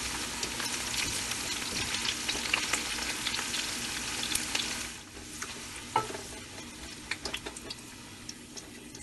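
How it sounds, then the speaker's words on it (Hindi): Large onions fry in oil for biryani, giving a steady, close sizzle with crackling pops and stirring scrapes that run throughout and ease slightly after the midpoint. "1 प्याज बड़े साइज की ली है, इसको भगार में डालेंगे।"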